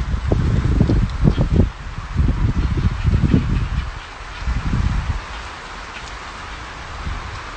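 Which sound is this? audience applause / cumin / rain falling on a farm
rain falling on a farm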